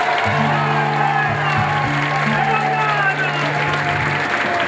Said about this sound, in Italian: Fate un applauso a Melo, picciù.